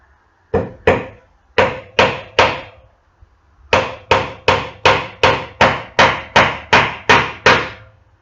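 Hammer blows driving 1.5 inch nails into a wooden block while building a greenhouse: three sharp strikes, a short pause, then a steady run of about ten evenly spaced close, loud knocks.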